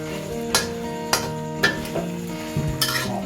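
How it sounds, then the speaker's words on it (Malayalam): Beef fried rice with dark soy sauce and oyster sauce being stirred in a hot pan: four or five sharp spatula scrapes at an even pace over a low sizzle, with steady tonal sounds in the background. "നല്ലപോലെ ഇളക്കി."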